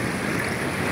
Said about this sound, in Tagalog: Marinig no, ganyan po kalakas yung alon.